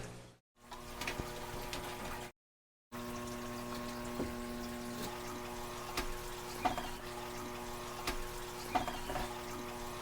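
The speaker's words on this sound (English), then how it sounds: "We have water going back into this aquarium right here." Water pours and trickles steadily back into a home fish-room aquarium during tank cleaning, a continuous close splashing flow with a low pump hum and a few brief dropouts.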